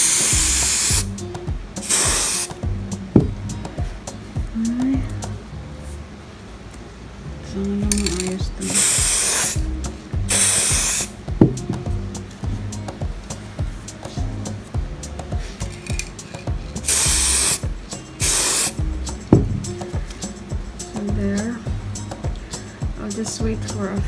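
Spray paint hissing onto book edges in several short bursts of a couple of seconds each, close and sharp, separated by pauses with some handling clinks and a person talking in between.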